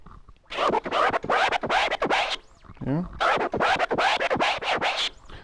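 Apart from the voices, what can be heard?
turntable scratching, release mode style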